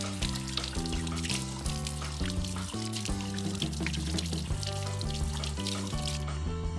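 Black cod fillets rinsed under a running kitchen tap, with a steady stream of water splashing into the sink and continuing throughout, mixed with a bright, busy layer of sound.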